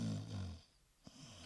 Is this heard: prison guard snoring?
yes